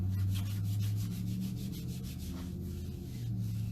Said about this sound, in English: you always want to clean the front of your transfer first